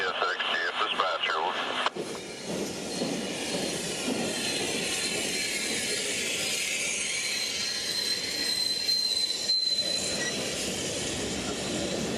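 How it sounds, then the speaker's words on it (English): CSX freight train on a Central Florida mainline reversing with an old caboose leading, two locomotives on the train: continuous rumbling rail noise with steady wheel roll and a brief high squeal, moderately close. "The old ex-chassis caboose would be leading the reverse move as the conductor acts as eyes for the engineer."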